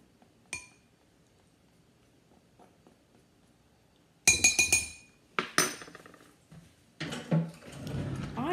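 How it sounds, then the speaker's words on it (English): Ingredients stirred in a bowl with a spatula, heard as sharp clinks and scrapes against the bowl in irregular bursts after a mostly quiet opening. "So now you want to mix it up."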